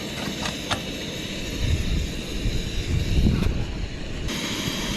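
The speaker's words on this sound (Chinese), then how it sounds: "有一阵风。" Gust of wind buffeting an outdoor microphone during a kettle test, producing low rumbling bursts that swell in the middle over a steady background hiss, with a few sharp clicks early on.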